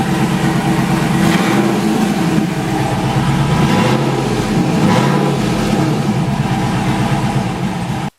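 A truck with a 5.3 V8 and AFR heads, running with no exhaust system, gives a loud, raw, continuous engine roar at close range with slight pulsing in pitch, cutting off abruptly at the end.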